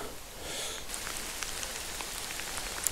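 Steady rain falls on a riverbank during a fishing outing, a dense pattering hiss close around the listener, with scattered sharper drop impacts throughout and no talking.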